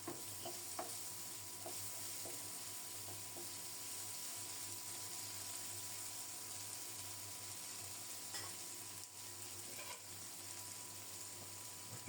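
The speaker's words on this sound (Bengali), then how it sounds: "ঢেকে ঢেকে নেড়ে চেড়ে আলু আর পেঁয়াজ খুব সুন্দর মতো ভেজে নেব।" Potatoes and onions fry in a pan while being stirred, a soft, steady sizzle broken by scattered light scraping and clicking.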